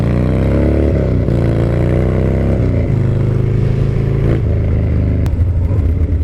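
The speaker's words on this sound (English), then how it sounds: "popping a wheelie on a Harley Davidson" A Harley-Davidson Dyna motorcycle runs loud and close as the rider pops a wheelie, its deep V-twin drone rising and dipping through several throttle changes and revs, with no talking.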